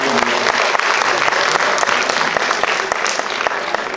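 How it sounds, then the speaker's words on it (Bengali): A hall full of people applauding Dilip da as he is welcomed to a political event stage, a loud, dense, continuous clapping that holds steady throughout. "জোরে হাততালি দিয়ে মাননীয় দিলীপ দাকে"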